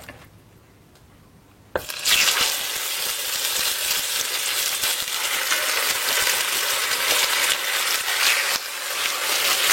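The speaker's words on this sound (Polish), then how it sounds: "wrzucę te żeberka, obsmażę" Pork ribs hit hot oil in a pan and set off a loud, sudden sizzle after a quiet moment, then a continuous crackling fry that holds strong to the end.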